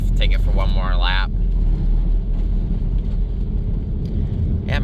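A 1997 Dodge Grand Caravan SE, revived after sitting abandoned on a farm for over four years, drives with a steady close engine and road rumble, with a voice talking briefly at the start.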